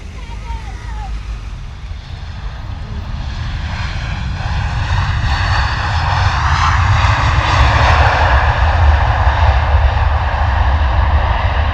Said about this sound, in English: Lovely, lovely noise there from the Ryanair 737. Full noise. Full noise. Full flaps, spoilers up, reverse thrust on.